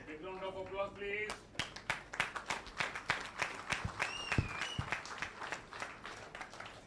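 An audience at a national convention on rivers claps after a speech, a steady run of sharp hand claps that builds briefly. A voice trails off at the very start.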